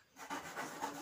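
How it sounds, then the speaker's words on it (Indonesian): A manual hand saw cuts wood for a window frame, making a faint, close rasping scrape in quick back-and-forth strokes with soft swells on each pass. "kita gergaji manual saja seperti ini"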